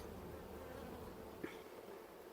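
Honey bees buzz around a beehive in a faint, steady drone heard from a short distance, with one brief louder tick partway through.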